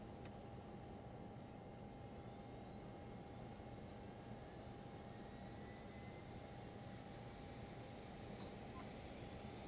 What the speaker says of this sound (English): We'll give number 1 a start now